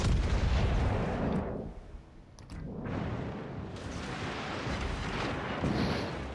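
Booming battleship artillery from the game World of Warships Legends, with the legendary battleship Bourgogne concentrating fire on a target. Heavy broadband blasts roll through the whole stretch, with a dip near the middle before the rumbling fire builds again.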